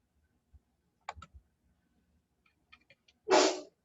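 In a quiet indoor room during a lesson presentation, a few faint clicks and taps lead up to one sharp, close sneeze at the very end.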